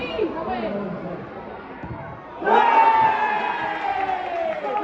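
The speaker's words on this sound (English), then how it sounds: "Pointless cheering, we're going to get an out anyway." Crowd at a Yeovil Town versus Gateshead football match, a low murmur that swells into a loud, sustained cheer about halfway through, with someone talking close by.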